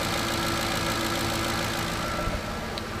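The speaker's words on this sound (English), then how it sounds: "there's a very low thumping or knocking almost" An engine idles steadily with a low, rhythmic thumping knock from faulty cam phasers beneath the hum, with no voices present.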